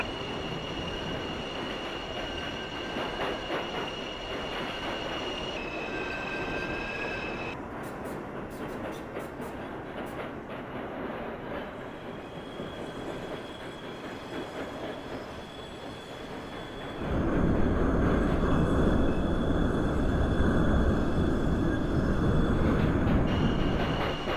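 Subway train running in the Openbve train simulator game, a continuous rumble of rolling wheels with high squealing tones, growing louder and rougher in the last few seconds, with no talk.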